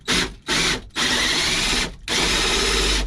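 A drill driving a 55mm hole saw through panel material in a Defender Puma 110 cabin, running in three loud close bursts with short pauses between, no voices.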